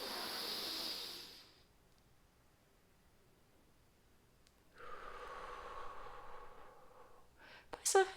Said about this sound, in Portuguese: puxa o ar pelo nariz, prende o ar aqui na cabeça, né? Solta